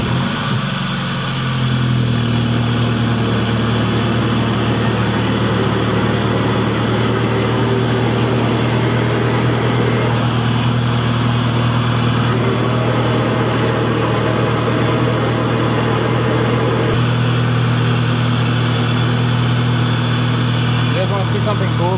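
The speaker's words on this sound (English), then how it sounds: "Max is going to be starting the car now" A VW MK6 GTI fires up with a brief crank, then settles into a steady, loud idle with an even mid-pitched engine drone, and people talk faintly over it.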